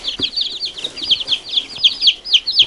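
Young domestic chicks from a mixed backyard flock peep in rapid, high, repeated chirps, close and continuous, with a few faint rustles underneath and no speech.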